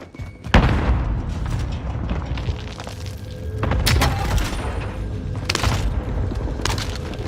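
A frag grenade explodes in Warzone with a loud, close boom near the start, followed by rumbling debris and a few sharper cracks and bursts that trail off over several seconds. No voices are heard.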